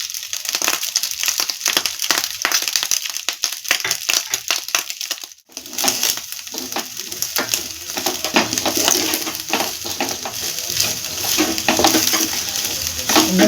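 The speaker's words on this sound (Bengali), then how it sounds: "লবণটা দিয়ে ভালো করে মিশিয়ে নিচ্ছি" Salt being stirred into Kanika Bhog rice in a pan makes a busy, close run of scraping and crunching strokes, with a short quiet break partway through before the stirring resumes, louder and denser, over a light sizzle.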